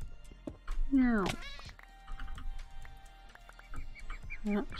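A cat in the Minecraft video game lets out a loud, drawn-out meow, followed by a shorter one near the end, amid quiet game noises and some talking.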